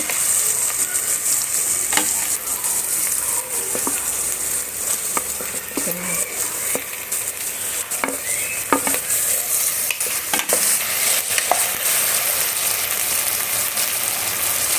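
Meat sizzles steadily in a pan while sautéing for meat kanji, with a constant frying hiss and occasional utensil scrapes and clinks throughout.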